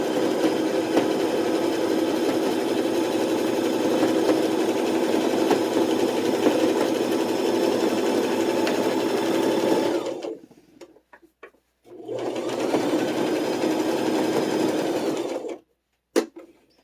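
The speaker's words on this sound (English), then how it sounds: "you don't want to hit a pin with the sewing machine needle" A domestic sewing machine stitches fabric for a toiletry roll, running steadily with a rapid, even mechanical whir for about ten seconds, then stopping. After a pause it starts again for a shorter burst, and it stops a second time.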